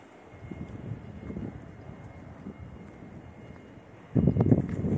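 A 30 kVA diesel generator with a 4100 engine runs with a steady low rumble, and it swells louder near the end.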